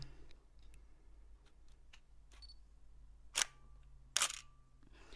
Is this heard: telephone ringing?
no